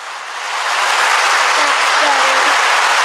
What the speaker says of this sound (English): Come on, give me more applause.